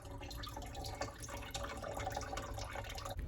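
Watermelon juice trickles and drips through a strainer at close range, a soft, quiet, continuous patter of small liquid splashes.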